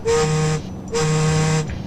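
A ship's horn sounds two loud, sustained tonal blasts, each about two-thirds of a second long, separated by a short gap, with nothing else heard.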